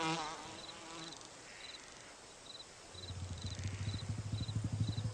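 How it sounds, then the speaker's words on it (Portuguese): A housefly buzzes steadily, close by and faint, its drone growing louder and more insistent in the second half against a quiet background with a faint periodic beeping. "Ao olhar para uma mosca, você vê uma criatura extremamente sensível ao que se passa em torno de si."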